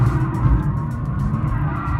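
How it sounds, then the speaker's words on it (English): A Mercedes-AMG saloon lights up its rear tyres and holds the back end out, producing a loud, continuous tyre squeal over a steady engine roar, close and without talk. "lighting up the rear tyres and just holding this car's back end out"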